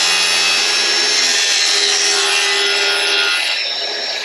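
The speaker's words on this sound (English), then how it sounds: "I'm gonna go ahead and I'm gonna notch these out real quick." A saw cuts hinge notches into wood, a loud, close, continuous rasping grind that holds steady for several seconds, then eases slightly at the end.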